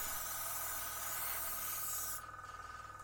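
A steady, fine hiss of an airbrush spraying freehand splinter camouflage on a Revell 1/32 He 111 model continues for about two seconds, then drops to a softer hiss with a faint rhythmic pulsing.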